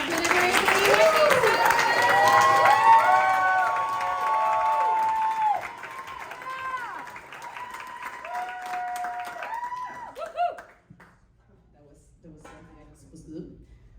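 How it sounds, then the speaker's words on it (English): A loud crowd cheers, whoops and applauds for several seconds, then the noise gradually dies down to scattered voices. "Let's start clapping right now. Make it real loud."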